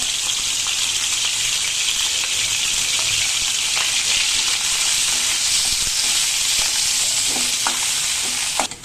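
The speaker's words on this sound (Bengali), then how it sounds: "প্রথমে আগে আমার ভাজতে হবে গরুর মাংসের কিমাটা। বেশি ভাজা যাবে না, কিমাটা হালকা ভাজতে হবে।" Beef mince fries lightly in a pan with a dense, continuous sizzle, close and loud, speckled with small crackles and stirring scrapes throughout.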